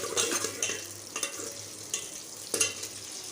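Ingredients for sarson ka saag fry in a pan with a soft sizzle, broken by repeated scraping stirs and light metallic clinks of a spatula against the pan.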